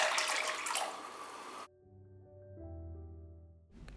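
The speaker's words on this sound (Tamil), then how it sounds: "இதில் ஒரு 3 கப் அளவுக்கு நான் தண்ணி சேர்த்துக்கிறேன்." Water poured from a cup into a pan holding one cup of sugar for syrup, about three cups in all: a steady splashing pour lasting about a second and a half, then it stops, leaving faint low hums and light clinks.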